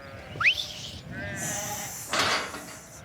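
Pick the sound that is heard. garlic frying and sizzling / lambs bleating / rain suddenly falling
lambs bleating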